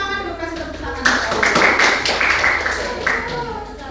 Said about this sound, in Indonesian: Kita kasih semangat dulu, kasih tepuk tangan.